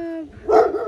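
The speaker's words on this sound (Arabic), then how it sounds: "كلاب" A single short dog bark rings out close by in a rural village, loud and abrupt, following a faint fading tone.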